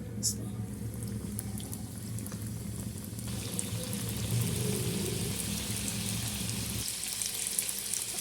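Iftar snacks fry in hot oil in a pan, giving a steady close sizzling bubble that runs under background noise the whole time, with a faint low hum.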